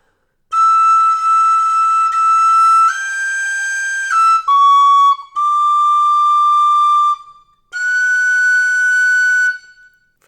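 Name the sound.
tin whistle playing Silent Night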